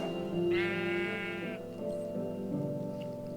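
A sheep in a modded video game lets out one long, wavering bleat lasting about a second over a steady background hum, with low game noises following, fairly loud and without talk.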